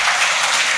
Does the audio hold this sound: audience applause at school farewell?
yes